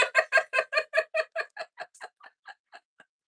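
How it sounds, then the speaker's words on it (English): A flock of backyard chickens clucks in a rapid run of about fifteen short calls that start loud and fade as they slow, with nothing else heard. "Y'all know I got a bunch of chickens."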